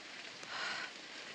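Steady hiss of rain falling on a rocky, muddy hiking trail along the Appalachian Trail, an even wash of drops that swells slightly midway, with no voices.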